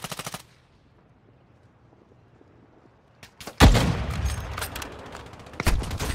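Gunfire in Warzone Mobile: a short burst of rapid shots at the start, a quiet stretch, then loud, close automatic fire and heavy bursts dominating the remaining seconds.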